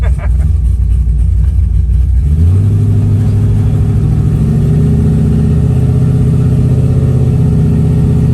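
A 1971 Chevrolet Chevelle on coilovers rumbles loudly up close, then its engine note rises and holds a deep, steady drone as the car pulls away and keeps driving.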